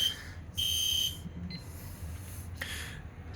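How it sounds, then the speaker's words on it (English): Fire alarm demo board with a Classic horn on a notification appliance circuit and a smoke detector's local buzzer pulsing together: repeated shrill high-pitched tones in short synchronized bursts, fairly faint against low room hum, no talking. "the output from the horn on the Classic and the local buzzer on the smoke detector are synchronized because the NAC is connected to the controller"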